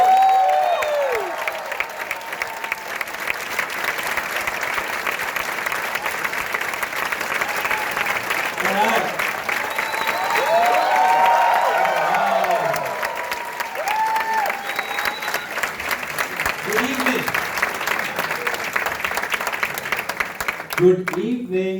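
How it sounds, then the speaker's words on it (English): A roaring audience gives sustained applause as two speakers are welcomed onto the stage at an entrepreneurship workshop, with loud, continuous clapping, crowd noise and scattered cheers, and voices rising through the din near the end. "help me welcome with a roaring round of applause, Dr. Ravi and Aarti towards the stage."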